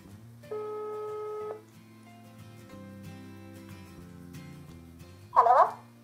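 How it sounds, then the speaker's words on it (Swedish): An outgoing telephone call rings out with a single electronic ringback tone near the start, over steady background music, followed later by a brief louder burst. "som jag ska ringa heter faktiskt Miranda, så vi ringer henne på en gång"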